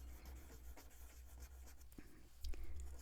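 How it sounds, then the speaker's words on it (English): A pastel pencil rubs gently in small circles on paper, a soft steady scratchy whisper with faint taps, quiet and close. "I'm just gently pushing the pastel into the paper."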